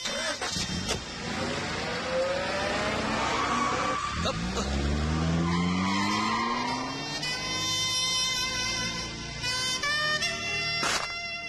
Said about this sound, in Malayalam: ഡ്രൈവർ, വണ്ടി എടുക്കൂ.